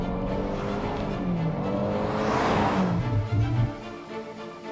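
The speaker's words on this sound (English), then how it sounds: "I'm gonna speed up, we're gonna do a bit of a brake test again." A VinFast car accelerates for a brake test, engine rising through gears as it passes close with road and tyre noise swelling then fading, loud and without talk.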